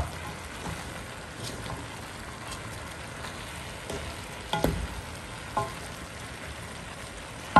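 Sotanghon noodles stir-frying in a pan, a steady close sizzle with occasional scraping and stirring clatter from a utensil, no talking.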